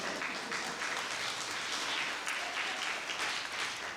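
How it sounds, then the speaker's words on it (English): Audience applause at a talk fills the space as a dense, even wash of many hands clapping, steady and moderately distant throughout. "while you're clapping"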